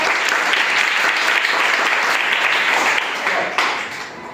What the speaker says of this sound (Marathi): भावेशसाठी सगळ्यांनी टाळ्या वाजवायच्या